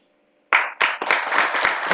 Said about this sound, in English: A round of applause as he continues.